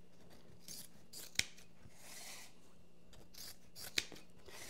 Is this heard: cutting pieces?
yes